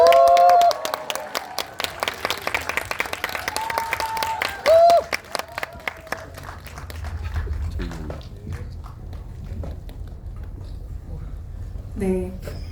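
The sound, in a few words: audience applause welcoming guests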